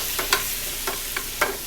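Fresh chopped thyme and diced Creole tomatoes hit a hot pan, bringing several short bursts of sizzle and stirring scrapes over a quiet background hiss, close and clear, with no voices.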